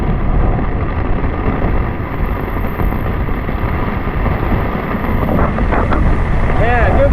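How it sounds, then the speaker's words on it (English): Heavy wind-driven rainstorm lashing a backpacking campsite during a severe thunderstorm in Indiana, a loud, steady roar of gusting wind and rain battering gear and the microphone with no letup. "good rainstorm"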